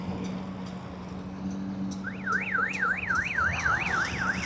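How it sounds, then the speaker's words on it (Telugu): A reverse horn fitted on a new tractor warbles up and down in a steady, rapidly repeating electronic tone that starts partway through over a low engine drone. "ఈ కొత్త మిషన్కి కూడా మేము బండి తీసుకున్న వెంటనే రివర్స్ హార్న్ అనేది పెట్టించాము"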